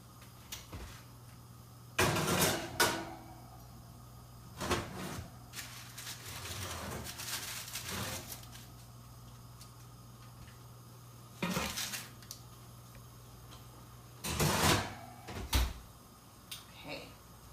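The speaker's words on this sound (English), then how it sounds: "So I'm going to go ahead and pop this in the oven." A roasting dish covered in foil, holding chicken enchiladas, set into a kitchen oven: a few metallic clanks of pan and rack with door thuds, separated by quieter pauses, with a voice talking in between.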